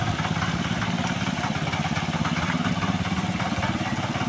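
A tractor engine runs steadily while churning mud in a flooded paddy field during rice planting, giving a loud, continuous close-up drone with no voices.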